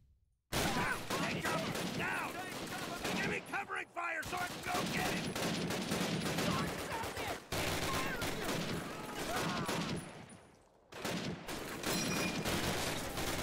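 Machine gun fire in the video game Call of Duty: United Offensive comes in dense, loud sustained bursts that mix with other gunfire and battle noise, broken by brief gaps. A voice is occasionally heard.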